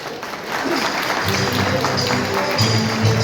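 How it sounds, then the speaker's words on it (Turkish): Wedding guests applaud the newly married couple in a hall, a sustained crowd clapping that stays loud throughout while a voice speaks over it and background music comes in partway. "Alkışlarınızla hayırlı uğurlu olsun."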